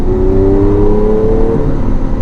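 A Lamborghini Aventador LP700-4 Pirelli Edition under light throttle, its engine tone climbing steadily in a smooth, loud, continuous drone before easing off near the end.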